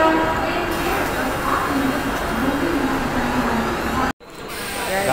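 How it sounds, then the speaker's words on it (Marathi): A local train runs through Shelu station near Mumbai in a steady, loud rumble that fills the clip. Birds call over the noise, and the sound drops out for a moment near the end. "तुम्ही बघू शकता ट्रेन आता जस्ट जातच आहे."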